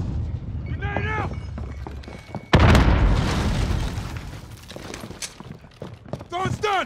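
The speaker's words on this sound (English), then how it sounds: "Grenade out." A grenade goes off in the Call of Duty: Modern Warfare video game as a sudden loud boom partway through, followed by a long rumbling decay, with gunfire, game effects and a voice speaking before and after.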